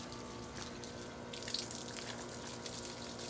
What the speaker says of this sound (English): I gotta wash this porch off too.